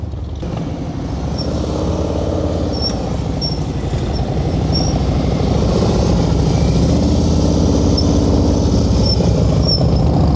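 A motorcycle engine runs at a low, steady throttle during slow-speed riding practice, a continuous moderately loud drone with no break and no voices over it.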